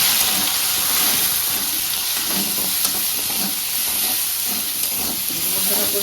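Spice paste with salt and turmeric fries in a pan with a steady, loud hiss and sizzle, broken by faint scraping and stirring, for a Bengali vegetable dish with bori.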